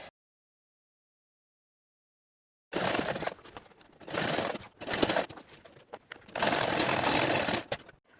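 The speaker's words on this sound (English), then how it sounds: "I'm going to stitch both on the bias and on the ridgeline bone" Sewing machine stitching bias tape and a ridgeline bone on an over-bust caged corset, starting after a silent pause, in several bursts of steady mechanical whirring with short stops between runs.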